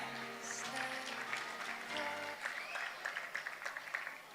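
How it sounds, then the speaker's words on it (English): Audience applause at a school graduation ceremony after a children's performance, a crowd clapping steadily and fairly far off, starting under an announcer's amplified voice and then continuing alone. "A round of applause for them."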